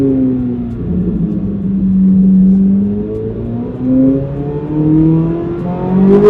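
A Corvette Z06 with a naturally aspirated V8 accelerates, its engine note climbing through gear pulls with brief dips between shifts, steady and close, with no talk.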